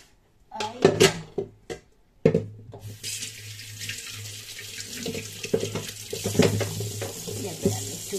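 Water runs from a kitchen tap onto meat in a sink, starting with a few splashes and clatters and then settling into a steady, close, gentle stream. There is no talking.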